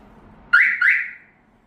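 A smartphone-controlled car alarm siren on a 2024 manual-transmission Hyundai All New Mighty truck gives two short rising electronic whoops in quick succession, loud and close, then fades out.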